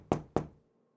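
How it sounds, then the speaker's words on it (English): Two sharp knocks on a hard surface, about a quarter second apart, close and loud, each with a short ringing decay, then quiet. "Did you hear a knocking sound?"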